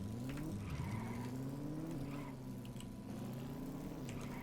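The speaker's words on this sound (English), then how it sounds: "That sounds more like a car. Maybe more of a performance car" A modded performance car engine in the Stormworks game runs steadily with a smooth, refined hum that rises slightly in pitch midway, loud and continuous with no talk.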